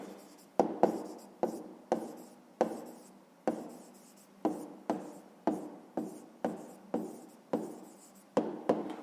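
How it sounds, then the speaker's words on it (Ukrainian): Pen writing an answer by hand on paper, a close, quiet series of short scratchy strokes, each starting with a small tap and fading, repeating about every half second to second with no talking. "зараз записуємо відповідь, пишемо відповідь"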